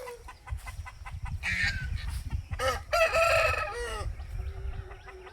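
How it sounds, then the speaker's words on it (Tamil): On a farm with a fighting-breed chicken breeding setup, a rooster crows loudly and close while hens cluck in short repeated bursts around it, no talking. "சேவல் எங்கேயோ இருந்துக்கா."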